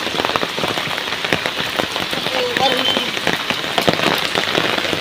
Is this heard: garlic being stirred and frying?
no